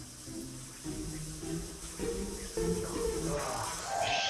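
Hotel shower water running, a soft steady hiss of spray with faint shifting splashes, close and quiet, no voices.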